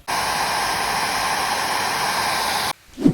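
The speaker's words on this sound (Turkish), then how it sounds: "Çalıştır saç kurutma makinesini, kurtul bu dertten." A hair dryer blows steadily and loudly on a refrigerator door's rubber seal, a constant airy roar that cuts off abruptly near the end, followed by a short thump.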